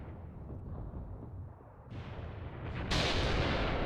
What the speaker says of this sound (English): Nice, another artillery impact.